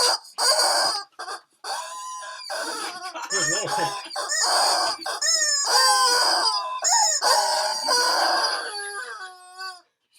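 Chickens cluck and a rooster crows loudly and close at hand, with repeated crowing calls layered over busy clucking and brief pauses between bursts.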